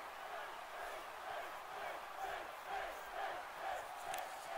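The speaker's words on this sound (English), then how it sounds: "This crowd in Chicago trying to get Finn Balor back" Arena crowd cheering at a WWE 2K18 wrestling match in Chicago, a steady roar of many voices swelling in waves and staying loud throughout, with no speech over it.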